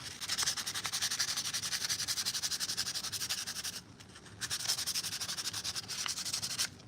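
Small resin-printed armor pieces are sanded by hand, giving a continuous rapid rasping scrub of rhythmic strokes that pauses briefly near the middle before resuming, close and alone.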